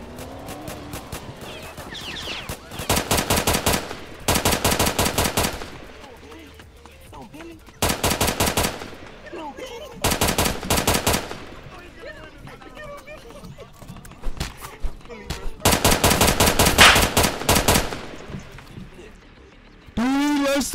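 An MCX rifle fires in repeated rapid full-auto bursts, loud and close, separated by short pauses, with voices talking between and over the shots.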